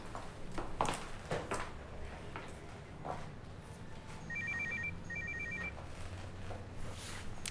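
A mobile phone rings in two short electronic bursts, fairly faint beneath a rustling, noisy room.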